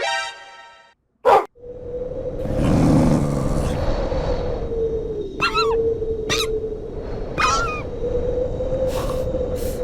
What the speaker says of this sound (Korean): 오, 늑대다.